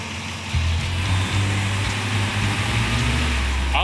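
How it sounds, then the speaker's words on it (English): A Chevy gasser race car engine idles steadily with a fine mechanical valve-train ticking over its low hum, running continuously and close by. "All I hear is valve train now."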